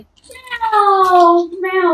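A person imitates a cat with one drawn-out, rising-then-falling meow, close and loud, followed by a shorter second mew, done as a sound for teaching a baby.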